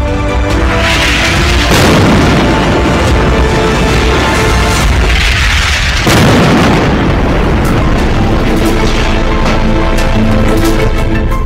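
Bombardment in Khan Younis, Gaza, with Israeli air strikes and tank shelling: loud, sustained rumbling explosions and heavy booms, two big blasts rolling into one another, with no voices.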